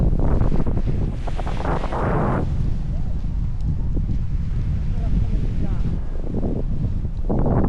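Large ocean waves wash onto a beach at a campsite beach resort in a steady, rumbling surge, heavily buffeted by wind across the microphone while people talk nearby.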